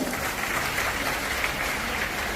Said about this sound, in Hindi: एक बार अपने लिए जोरदार ताली बजाओ